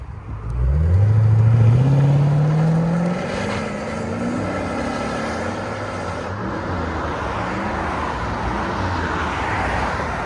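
A Lexus RC F with a 5.0L V8 and Valvetronic exhaust, valves closed, drives past: a loud rising engine tone swells in the first few seconds, then gives way to a steadier, lower road and engine roar that holds to the end.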